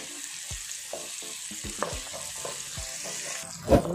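Onions fry with salt in a pan for an Andhra-style country chicken curry, giving a soft steady sizzle. A few scraping stirs punctuate it, and a clatter comes near the end.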